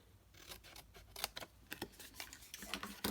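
Scissors cut out the corner pieces of a paper stand for sticky notes: a few close, crisp paper snips with light rustling, no talk.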